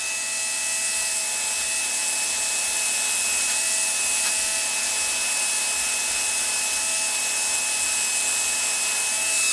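Wire cup brush scouring a part from an Athearn Blue Box SD45 model locomotive, a steady abrasive whirring hiss with a constant motor whine, close and continuous.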